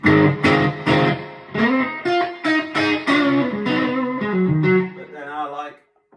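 Electric guitar played through a TC Electronic Hall Of Fame Mini reverb pedal with heavy reverb, a run of plucked notes and chords ringing out and trailing into a long wash before fading to silence.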